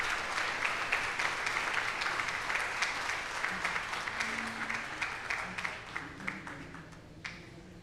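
A crowd of about 300 at the Kentucky Bourbon Hall of Fame induction ceremony stands and applauds, sustained dense clapping with sharper individual claps throughout, fairly near and steady.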